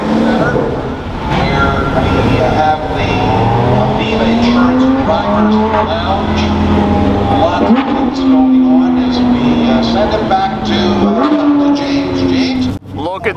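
A Pagani Huayra BC Roadster and a McLaren Elva supercar pass at Goodwood, engines rising and falling in loud revving sweeps and gear changes, close and continuous, with a crowd and voices around.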